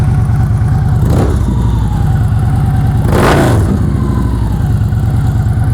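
A Victory Hardball motorcycle engine idles with a loud, throbbing, close rumble, broken by two quick throttle blips that rise and fall, with no voices.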